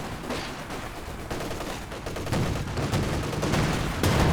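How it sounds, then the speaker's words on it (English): A heavy mortar barrage in the strategy game Company of Heroes 2 plays as dense overlapping explosions and gunfire, rumbling continuously and building in intensity, with no talk. "Oh, the heavy mortars again."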